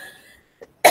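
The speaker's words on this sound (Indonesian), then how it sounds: "Batuk ni kalau dia dah mai dia susah nak berhenti." A person gives a single sharp cough right at the end after a near-silent pause, with a faint trailing tone fading out earlier.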